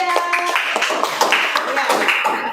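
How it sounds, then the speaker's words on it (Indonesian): A small group in an Indonesian coaching session claps hands in a steady, fairly quiet patter, with people talking over it. "Tepuk tangan juga"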